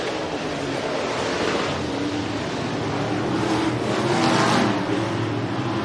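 Race cars speed down the backstretch at Rapid Speedway on a Friday night, a continuous broad roar of engines and rushing noise that holds steady and swells slightly near the end, heard from a distance with no speech.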